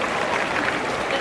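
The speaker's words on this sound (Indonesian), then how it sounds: "Tepuk tangan dulu" A classroom of students applauding, a dense, continuous burst of clapping that fills the short moment, close and fairly loud, with voices mixed in.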